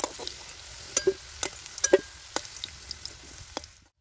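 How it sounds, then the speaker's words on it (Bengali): Kohlrabi pieces frying golden in hot oil in a pan give a faint, quiet sizzle broken by scattered sharp pops and crackles over a few seconds. "দেখুন ওলকপিগুলো সোনালি করে ভেজে নিয়েছি।"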